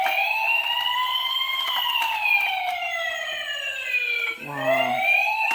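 A toy fire truck plays an electronic wailing siren that slides slowly downward in pitch, then breaks into a quick stepped alarm tone near the end, thin and steady throughout.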